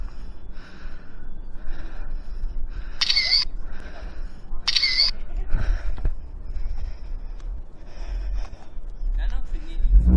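Two sharp camera shutter clicks sound a couple of seconds apart, against quiet background noise and soft breathing.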